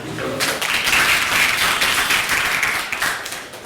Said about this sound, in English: Can I have a clap?